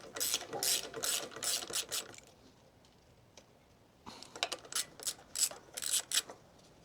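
A ratchet wrench loosens the carburetor on a Toro Z Master zero-turn mower. There are close, quick clicking bursts, then a short quiet gap, then another run of clicks, with no talk.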